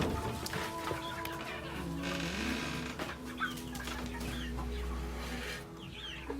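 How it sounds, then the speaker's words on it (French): Hybrid chickens, a cross of improved and local breeds, clucking steadily inside a poultry house on an agro-pastoral farm, several birds overlapping at close range with a low continuous hum beneath. "nous avons les poules hybrides"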